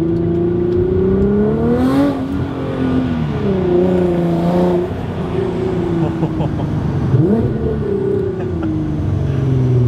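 Nissan R35 GTR tuned to 705 horsepower accelerating hard up a highway on-ramp, its engine note climbing loud and close through rising revs with brief shift dips, continuous from start to end.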